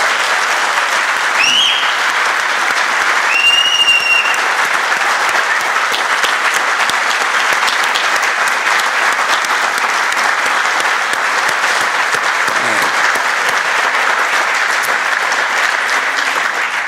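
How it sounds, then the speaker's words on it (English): An audience at a celebration-of-life gathering gives sustained, loud applause for a long stretch, a dense and even wash of clapping with a couple of brief whistles near the start. "So can we get a round of applause for our star of the show?"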